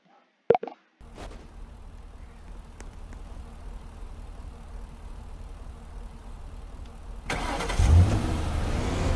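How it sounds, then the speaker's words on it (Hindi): Car engine in a Roblox video game, starting with a short click, then a low steady idle rumble that swells into louder revving as the vehicle pulls away, with no talking. "मुझे अच्छे से गाड़ी चलाने नहीं आती।"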